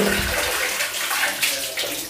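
Bathroom tap running at full force, a steady, loud rush of gushing water close by with no talking.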